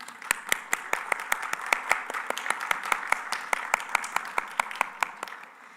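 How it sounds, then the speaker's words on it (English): Scattered applause from a group at an academic conference: a steady run of distinct, sharp claps at a moderate pace, fairly close and clear, lasting about six seconds. "Yes, thank you, Timo, for that clap"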